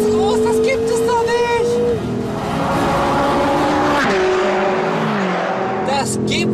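A Ferrari race car drifting through the final corner of a track in an Abu Dhabi challenge, its engine roaring with tire squeal and skidding, while a commentator talks excitedly over it.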